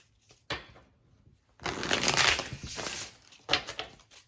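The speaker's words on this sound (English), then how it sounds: "Sorry, I have to pre-shuffle." A deck of cards is shuffled up close: a quick riffle burst, then a longer riffling run and another short riffle, with quiet pauses between.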